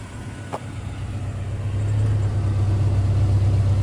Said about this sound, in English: You can hear the AC clutch engaging.